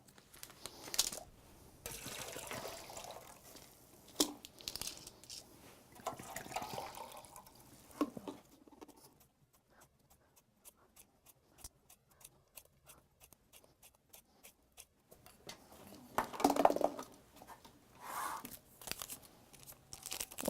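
Thickener being mixed into liquid in a container to form a stool-like jelly for a bowel care demonstration: quiet, intermittent crunching, crinkling and wet sloshing, with a hushed stretch in the middle before the stirring resumes.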